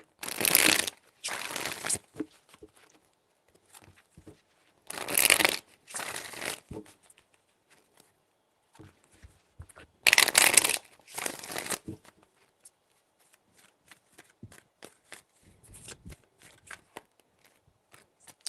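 Tarot cards shuffled in three separate bursts of brisk riffling and snapping, each cluster spaced a few seconds apart, with quieter handling sounds in between.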